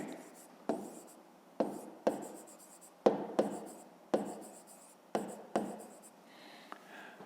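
Pen writing on paper during a fifth-grade maths exercise, heard as a series of close, crisp scratching strokes in bursts, each sharp onset fading into softer scribbling, alone without talk.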